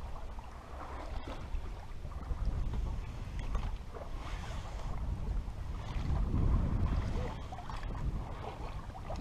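A boat motoring at sea between Saint-Tropez and Porquerolles gives a steady low engine drone with wind and water rush over it, continuous and fairly loud throughout.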